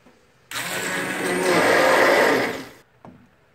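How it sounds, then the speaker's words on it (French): Blender puréeing cooked vegetables for baby food, a steady loud whirring motor run of about two seconds that swells in the middle, then stops, followed by a brief clunk. "je vais mixer mes légumes"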